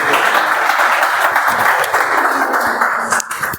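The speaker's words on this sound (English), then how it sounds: "Huge round of applause, ladies and gentlemen." Audience applause at a Toastmasters speech marathon meeting, a dense, steady roar of many hands clapping close by that carries the whole time and thins out slightly at the very end.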